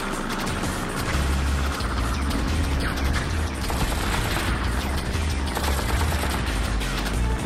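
Video game Freaky Flyers plays rapid gunfire in a fast aerial race, dense bursts of shots over a continuous engine drone and game music, loud and unbroken throughout.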